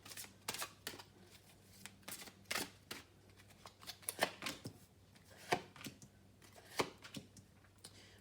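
Tarot cards being shuffled and drawn by hand, a run of soft papery riffles and slaps close by, with several sharper snaps spaced irregularly over a faint steady hum, no talking.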